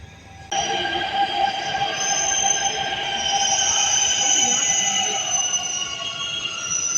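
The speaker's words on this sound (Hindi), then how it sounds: "तो मेट्रो आ गई है" A Delhi metro train rolls into the station close by, its wheels squealing in high sustained tones over a steady loud rumble.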